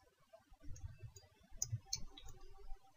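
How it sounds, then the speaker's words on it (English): Keyboard typing follows a Ctrl+F search shortcut, heard as a quiet, irregular run of soft key clicks and taps close by, with no speech. "press ctrl+F and start typing"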